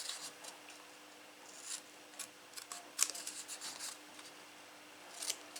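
Scissors cut paper close up, faint crisp snips and rustling scattered in irregular bursts over a quiet background hiss while making a butterfly craft.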